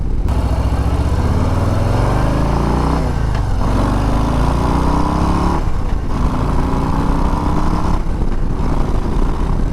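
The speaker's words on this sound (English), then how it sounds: "Fast motorcycle with that 117 on here." A 2022 Harley-Davidson Low Rider ST with a 117 V-twin engine roars steadily at speed, loud and close, with a deep throbbing rumble and pitch swells as it shifts and accelerates.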